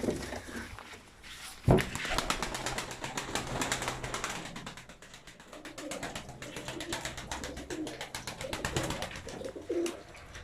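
Pigeons coo steadily in soft, repeated throaty calls, with a sharp knock and occasional fluttering nearby.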